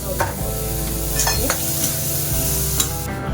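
Chopped onion and tomatoes frying in a pan with groundnuts, a loud continuous sizzle with scraping stirs of a spatula, close and without talk.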